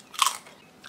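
A single crisp bite into a thick-cut flat BBQ chicken potato crisp, giving one loud, close crunch that trails into quieter chewing.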